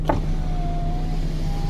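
Rear left power window of a Hyundai Elantra sliding with a steady, thin motor whine over a low hum, close and continuous with no talk.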